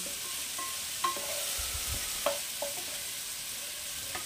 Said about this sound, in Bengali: আমি কেটে রাখা মাশরুমগুলো, টুকরো করে রাখা মাশরুমগুলো এর মধ্যে দিয়ে একসাথে নাড়াচাড়া করে নিচ্ছি।